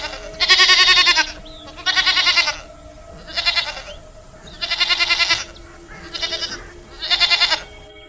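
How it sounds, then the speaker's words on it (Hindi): A herd of goats in a cartoon story, six loud, close bleats in a row, each about half a second to a second long, separated by short gaps. "सोना चुड़ैल के पास बहुत सारी बकरियां थीं।"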